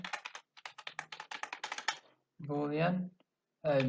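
Rapid keystrokes on a computer keyboard while code is typed, a quick close burst of light clicks, then a pause, and someone speaks between the typing bursts.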